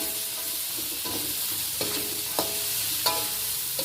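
Garlic chives (kucai) stir-fried in a pan, with a steady close sizzle and sharp scraping knocks of the utensil against the pan at irregular intervals.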